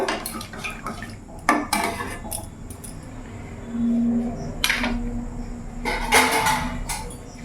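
Metal kitchen pots and utensils clank and clatter while a lid goes onto a cooking pot of peas, paneer and potato, with scattered knocks and scrapes and a brief steady hum in the middle.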